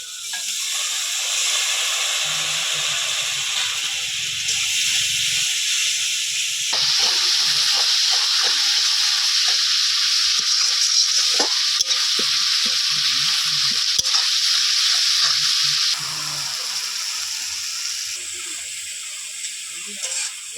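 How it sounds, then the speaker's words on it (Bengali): Ground coriander and cumin masala frying with a splash of water for a pangas fish curry, a loud steady sizzle and hiss that swells and eases as the spice paste is stirred in the pan. "এবার দেবো ধনে গুঁড়ো আর দেবো জিরে গুঁড়ো অল্প একটু জল দিয়ে মশলাটা কষতে নেব"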